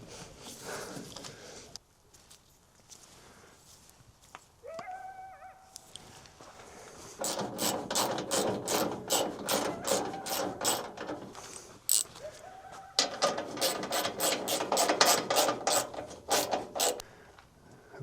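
Ratchet clicking in quick bursts while bolts are tightened on an excavator radiator during a Hitachi rebuild, close and fairly loud, with brief metallic knocks between runs of clicks.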